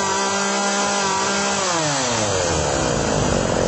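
A chainsaw engine revs hard during carburetor adjustment, a loud, close, continuous buzzing whine that climbs sharply in pitch midway as the rotation speeds up.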